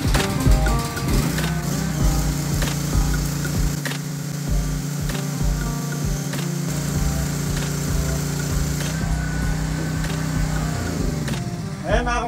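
Welding generator and inverter generator, PK160A and PK4200 units, running steadily during testing, a continuous loud engine drone with a strong low hum and mechanical rattle that holds throughout with little change.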